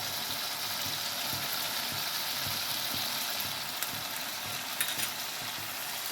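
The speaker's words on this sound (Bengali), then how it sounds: "মশলাটা কষার সময় আমি গরম মশলার গুঁড়ো একটু দিয়ে দিলাম" A spice paste with yogurt and garam masala powder fries in oil for an aar fish curry, giving a continuous even hiss of sizzling with faint stirring knocks beneath.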